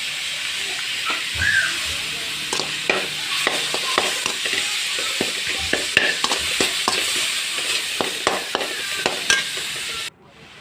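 Tomatoes sautéing in a pan for a Tamil tamarind curry with manathakkali berries, a steady sizzle broken by frequent scraping stir strokes, close and loud, stopping abruptly near the end.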